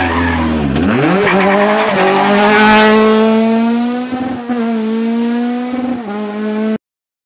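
A VW Golf rally car races up the Homburg hill climb, its engine revving loud and close, climbing through gears and holding a sustained high-pitched roar with tyre squeal before cutting off abruptly.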